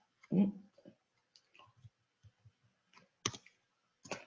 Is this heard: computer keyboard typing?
yes